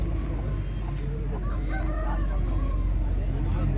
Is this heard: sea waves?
no